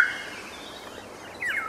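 Eurasian golden orioles fighting over a female give faint, thin calls that open the short stretch and return near its end, with nothing else between.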